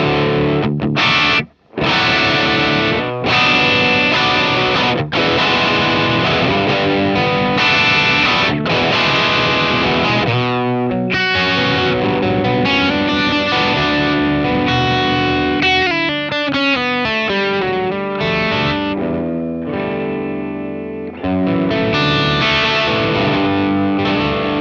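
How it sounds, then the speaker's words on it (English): Electric guitar played through an Abasi Pathos distortion pedal with every knob at noon: loud, saturated chords and single-note runs with sustained ringing, a few sharp stops and restarts, and no speaking. "Everything at 12 o'clock on a distortion pedal."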